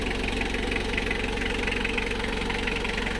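Mitsubishi 4D56 engine idling smoothly during an oil change and tune-up, an even, steady diesel-like chug with a faint knocking rhythm, close and constant with no speech.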